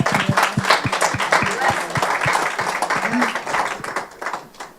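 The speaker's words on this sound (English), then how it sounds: "Give her a round of applause." Round of applause from an audience at an interview event in Pennsylvania and South Jersey, steady dense clapping with crisp individual hand claps, fairly close and loud, fading toward the end.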